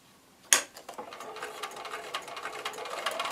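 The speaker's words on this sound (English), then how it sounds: "Just sew right down that line" A sewing machine stitches a paper-pieced flying geese block, starting with a sharp onset and then running in a steady, close, rapid stitching rhythm with no talking.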